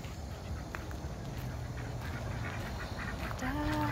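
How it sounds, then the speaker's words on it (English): Ducks quack at Celestial Farms in Jacksonville, Florida, with scattered calls over steady outdoor farm background noise and a louder, drawn-out call near the end. "Ducks."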